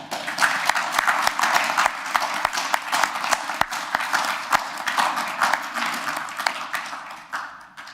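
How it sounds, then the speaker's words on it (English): A council meeting crowd gives a round of applause for a new officer, a sustained patter of many hands clapping that fades slightly toward the end. "Can we give her a little round of applause?"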